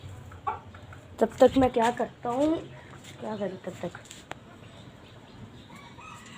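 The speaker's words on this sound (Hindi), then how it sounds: "ये मुर्गी यहाँ पे आ रही है अपने खुडे में जाने के लिए" A farm hen clucks in short, close bursts as it walks toward its coop outdoors, with someone talking at times over the calls.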